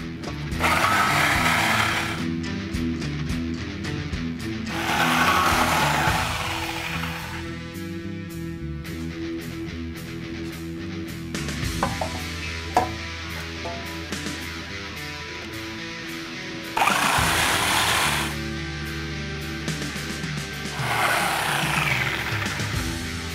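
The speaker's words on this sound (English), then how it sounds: "you're actually going to have to cut the tailpipe right behind the muffler before it goes over the rear axle" A power tool cutting through the exhaust tailpipe just behind the muffler on a 1999–2004 Mustang GT, loud buzzing bursts that start and stop several times, with quieter mechanical whirring between the bursts.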